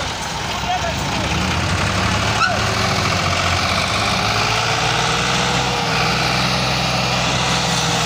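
A tractor engine labours under load, a loud, continuous low rumble that holds steady for several seconds, with voices talking faintly in the background.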